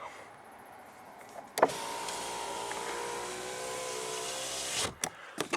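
Power window motor in a 2008 Holden VE Commodore SV6 Sportswagen whirring steadily for about three seconds after a click, close and fairly loud, ending with another click and thump; no talking.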